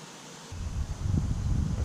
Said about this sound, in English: Of course, it's a little windy out.